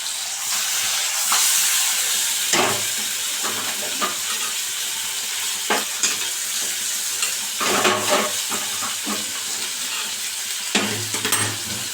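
Eggplant hisses steadily while frying in a pan, a bright continuous sizzle broken by several louder bursts and clacks as tongs grip and flip the pieces, close and fairly loud.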